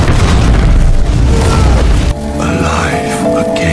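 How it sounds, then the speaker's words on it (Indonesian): A dynamite explosion in the film Frankenstein (2025), a loud close boom that rolls on for about two seconds before cutting to a quieter scene. "itulah ledakan yang sebelumnya didengar oleh kru Kapten Anderson"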